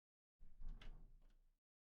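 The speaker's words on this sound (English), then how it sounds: "I opened the door to find no one" A door opens in the video game Death end re;Quest 2: a single soft thud with a faint latch click and a brief creaking swish. It sounds close and is fairly quiet, with no voices.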